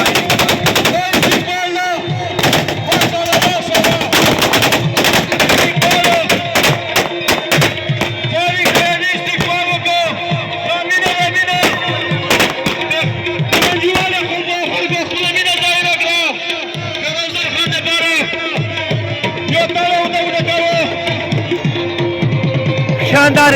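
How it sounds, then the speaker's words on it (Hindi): Celebratory aerial gunfire crackles at an outdoor political rally welcoming PTI leader Sher Afzal Marwat in Lakki Marwat, with rapid repeated bursts and single shots, loud and near, over crowd noise and shouting. "लगे मरवत में हवाई फायरिंग की गई है"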